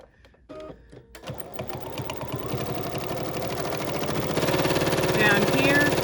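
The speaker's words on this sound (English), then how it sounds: "I'm just going to fold this over just like that, and I'm gonna just stipple stitch again" A BERNINA sewing machine stipple stitches a folded fabric bowl, its rapid, steady needle rhythm building after a quiet start and growing louder and denser toward the end, close and continuous.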